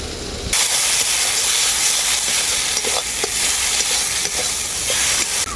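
A spice paste with a splash of water and Kashmiri chili powder fries in a pan for young jackfruit curry. A loud hiss bursts in abruptly, then settles into a dense, continuous close sizzle with faint stirring clicks.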